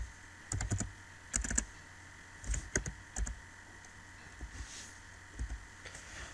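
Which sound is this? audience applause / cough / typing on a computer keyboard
typing on a computer keyboard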